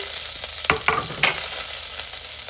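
Green chilies are stirred into a frying pan with cumin seeds, a steady close sizzle broken by a few scraping stir clicks, with no talking.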